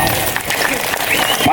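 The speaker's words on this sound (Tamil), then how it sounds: "எழுதுக்குமா ஒரு கைதட்டு கொடுக்கலாம்." An audience claps for someone at an outdoor gathering, with continuous, moderately loud applause under a voice talking over it.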